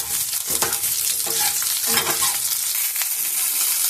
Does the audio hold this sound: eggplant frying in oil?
yes